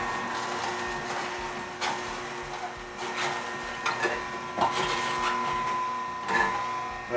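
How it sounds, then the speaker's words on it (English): Masticating juicer auger crushing cucumbers, a steady mechanical whir with a constant motor tone, broken by irregular cracks and crunches as pieces are drawn in, close up. "Just let the auger take it up, carry it through,"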